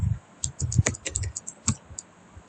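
Someone types on a computer keyboard while entering a web address in a browser, producing close, quick, irregular key clicks in short bursts against a quiet background.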